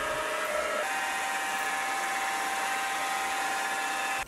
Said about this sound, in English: The final thing left to do is drill three holes along the top edge